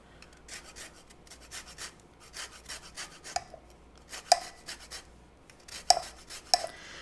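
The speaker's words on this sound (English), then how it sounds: "so let's get the zest done." Citrus peel is rubbed over a zester in a steady series of soft, close rasping strokes, with a few sharper little clicks near the end.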